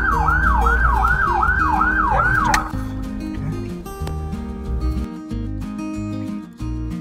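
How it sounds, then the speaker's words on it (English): A loud wailing ambulance siren sweeps up and down repeatedly, then cuts off, leaving vehicle rumble and clatter. "And you know how to activate the siren?"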